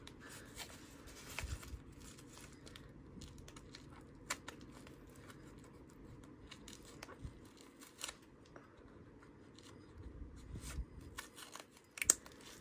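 Scissors cut open sealed trading card packs, sounding as quiet, intermittent snips and crinkles of wrapper material spread over several seconds, close and faint with no talking.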